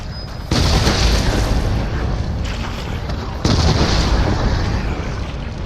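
Shotgun blasts in Resident Evil 7: Biohazard, two loud, close booming shots spaced a few seconds apart, each followed by a heavy decaying rumble.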